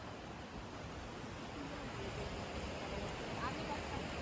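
Large ocean waves break on a sea shore at Alibag, heard as a constant broad rushing wash of surf, moderately faint and steady throughout.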